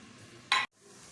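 Onions frying toward light golden brown in a pan for a mutton saag gosht, a steady low sizzle broken by one brief loud burst of stirring or scraping before dropping quiet.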